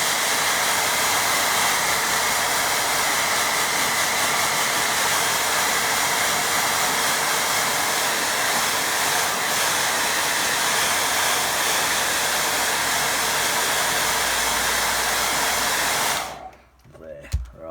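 A hair dryer blows steadily and loudly over a watercolour painting, a continuous close-up roar that holds for about sixteen seconds and then switches off, leaving a few faint handling sounds.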